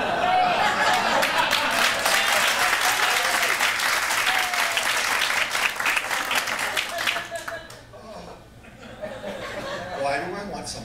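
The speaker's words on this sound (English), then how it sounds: "and then applause" Studio audience at a comedy talk show breaks into sustained applause mixed with chuckles, dense and close through most of the stretch, then thinning out as the clapping fades and a few scattered claps and murmurs remain.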